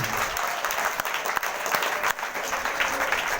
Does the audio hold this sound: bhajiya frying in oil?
no